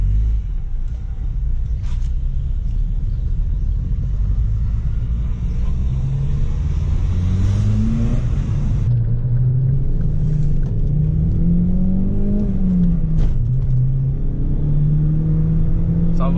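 An Opel Vectra GTS engine revs up under acceleration, a steady loud rumble with a rising and falling tone heard from inside the car.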